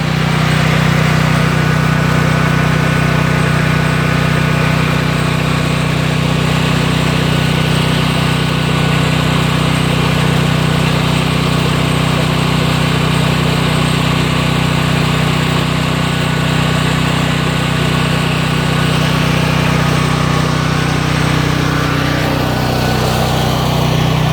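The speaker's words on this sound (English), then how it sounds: "We're going to get away from the generator here." A generator drones continuously inside the building of a closed Kmart in Newport News, Virginia, loud and close, a steady hum that holds unchanged throughout.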